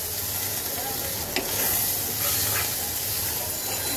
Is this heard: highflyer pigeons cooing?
no